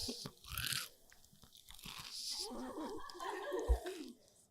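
A small Dubai-style chocolate bar is bitten and chewed with a crisp crunch, close and quiet, with a few brittle cracks followed by softer chewing and a sharp snap near the end.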